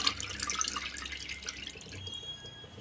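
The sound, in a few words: draining water from washed jute leaves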